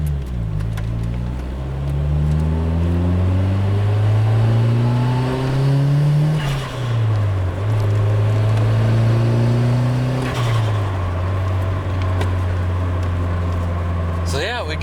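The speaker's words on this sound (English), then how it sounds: "We got that good old turbo motor there helping us through here." A turbocharged Nissan 180SX engine accelerating on a track, its loud steady drone climbing in pitch through several gear-rising sweeps with brief drops at shifts, running continuously close up.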